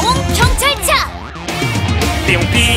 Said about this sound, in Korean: 삐용삐용 나는 경찰차